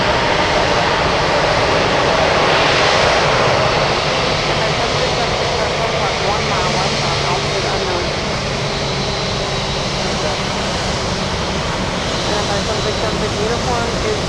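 DC-10 jet engines roaring loud and sustained throughout while the plane passes at an Anchorage airport, a broad, continuous rumble and whine with faint voices underneath.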